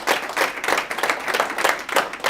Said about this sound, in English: Can we all, give him a round of applause?